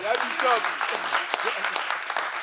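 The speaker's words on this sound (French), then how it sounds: "Est-ce qu'on va acclamer encore très fort?" Congregation at a French-speaking church service in Lyon breaks into applause, a dense broadband patter of clapping that runs steadily throughout, mixed with voices speaking over it.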